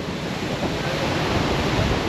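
Water pours down Sepli Jharana waterfall in a steady, broadband roar, close and continuous with a hiss of wind across the microphone and no talking.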